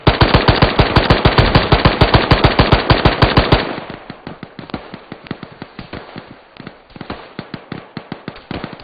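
Video-game gunfire after a frag grenade is thrown: a loud rapid burst of automatic fire for several seconds, then quieter, sparser shots and cracks that continue steadily.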